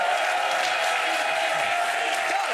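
An audience applauds steadily and loudly throughout at a live joke battle contest, a continuous wash of clapping with no pauses.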